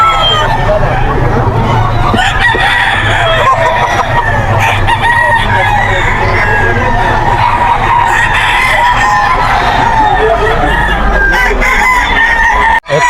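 Stag roosters at the Bocaue pet market crow and cluck loudly and repeatedly, overlapping in a busy crowded chorus with faint voices in the background.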